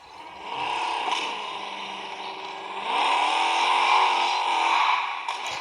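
A Dodge Challenger in the mobile game Car Parking 2 speeds along with a steady engine roar that climbs in pitch, easing slightly before surging louder again, with no talking.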